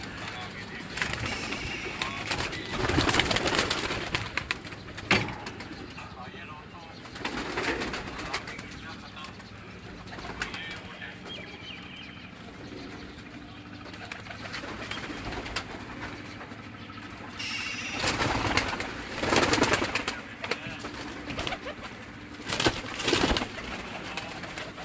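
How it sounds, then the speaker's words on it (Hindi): Teddy breed pigeons coo at a pigeon keeper's loft, soft repeated throaty coos in bursts, with people talking nearby at times. "कबूतर।"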